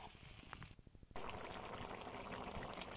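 Raw beef, about a kilo, tumbles into cooked-down spice masala in a cooking pot, a short wet plop followed by a steady, moderately loud sizzle and bubbling, with no voices.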